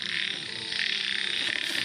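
Many frogs croak together in a dense, continuous chorus that stays loud and steady throughout, with no voices.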